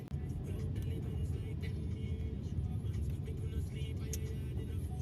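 A car pulls away, its engine whirring steadily with a constant low road rumble from inside the cabin. Small knocks and rattles sound now and then over the continuous drone.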